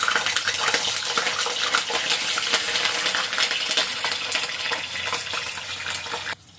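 Pieces of homemade paneer frying in hot oil, a continuous crackling sizzle with scattered pops and spatters, fairly close and loud, cutting off near the end.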